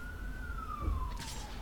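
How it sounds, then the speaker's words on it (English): A police siren wails faintly in the distance, its long tone gliding slowly downward over a low background rumble. "I don't know if you can hear, but there's sirens in the background"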